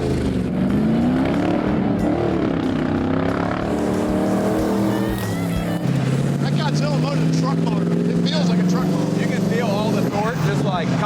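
A Factory Five Mk5 Cobra's engine rumbles and revs as the car pulls away and drives, the note rising and shifting through gears, loud and close, with people talking over it.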